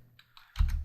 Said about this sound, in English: right after I finish typing this line